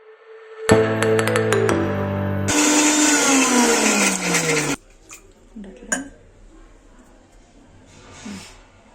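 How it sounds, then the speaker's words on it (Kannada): A mixer grinder whirs loudly in a short pulse while grinding a fine cooking paste, then runs longer and winds down, followed by faint knocks and clatter. "ಇದಿಷ್ಟು ಹಾಕ್ಕೊಂಡು ಒಂದು ಫೈನ್ ಪೇಸ್ಟಾಗಿ ಗ್ರೈಂಡ್ ಮಾಡ್ಕೊಳ್ಬೇಕಾಗತ್ತೆ"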